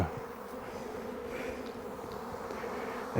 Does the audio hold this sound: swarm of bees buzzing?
yes